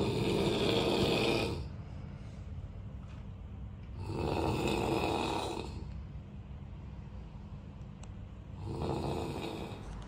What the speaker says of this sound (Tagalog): May hilik-hilik pa yung asawa ko.